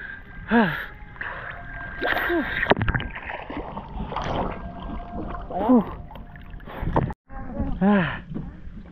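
A motorized pambot boat runs on the water during a rescue, its engine a steady drone in the background while several people talk and call out over it throughout.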